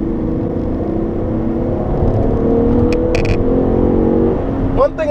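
A 2013 Chevrolet Impala, a big front-wheel-drive American sedan with a 300-horsepower engine, drones steadily from the cabin while driving on a road, the engine note rising slightly, with a brief clatter near the end.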